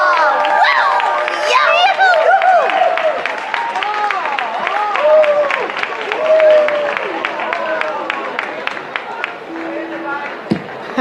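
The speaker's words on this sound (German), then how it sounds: "begrüßen wir sie mit einem donnernden Applaus" Audience applause and cheering at a Hänneschen Kirmes puppet show, bursts of clapping mixed with lively voices and puppet-character talk over the top, loud and close.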